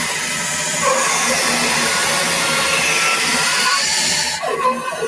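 A bandsaw feeds through a log with dust extraction running, a loud steady mechanical whir and hiss holding throughout before easing off near the end.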